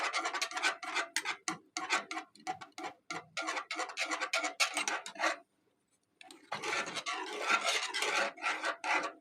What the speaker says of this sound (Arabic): هفضل اقلب فيها كده عشان مكعب الزبده